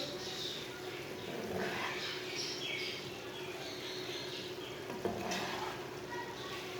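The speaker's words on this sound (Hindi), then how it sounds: "मिक्स कर लेंगे।" Steady sizzling in a pot as garam masala and fresh coriander are stirred into dhaba-style mash dal, with soft scraping stirs, a light clink near the end, and a voice talking faintly in the background.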